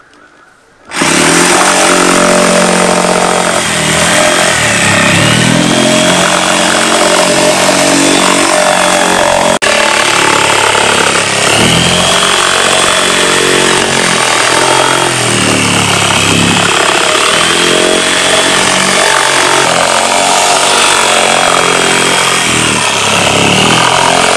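A design cutter power tool slicing through an old tyre being made into a plant pot, a loud continuous high whine and grinding roar that starts abruptly and runs unbroken throughout.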